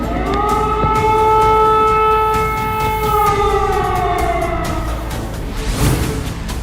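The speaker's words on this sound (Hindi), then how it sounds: "कीव में लगातार बज रहा है युद्ध का सायरन।" A wartime air raid siren sounds in Kyiv, a loud, sustained wailing tone whose pitch slowly sags and then trails off, heard alone against a low background rumble.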